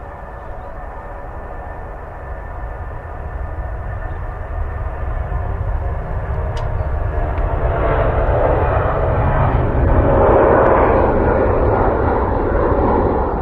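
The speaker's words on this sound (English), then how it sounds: "I'm sure you can hear another aircraft on the right hand speakers heading" An aircraft on approach to Manchester Airport grows steadily louder as it nears, with a broad jet roar and engine whine swelling over the distant background hum of the airport.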